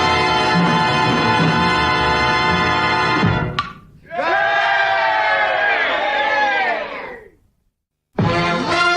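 A baseball stadium crowd roars and cheers during Jackie Robinson's at-bat in a loud, dense swell that breaks off abruptly twice before surging back.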